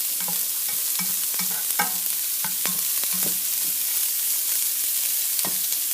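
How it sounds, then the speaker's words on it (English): Cauliflower and onions fry in a pan on turned-down heat, giving a steady close sizzle broken by repeated clinks and scrapes of stirring, with no voices. "Let's get this cauliflower down there so that the onions aren't touching the bottom anymore."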